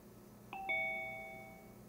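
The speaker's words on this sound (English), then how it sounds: "Then you'll hear a doorbell tone when you enter the room." A Zoom doorbell tone sounds on entering a meeting room: a soft two-note electronic chime, the second note ringing out and slowly decaying over quiet background hiss.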